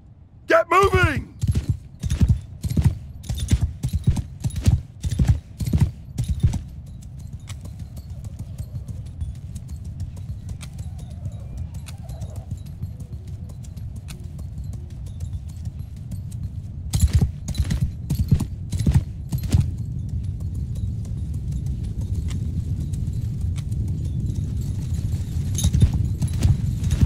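Hooves clatter in quick bursts of rhythmic clip-clop, fading to a low rumble midway, then returning as several horses move together, in the game Mount & Blade 2 during a battle.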